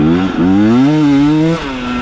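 A KOVI 300 Pro 2T two-stroke enduro motorcycle with a 56 hp engine pulls hard in second gear. A loud, close, buzzing engine note rises in pitch, holds, then eases off, with no talking over it.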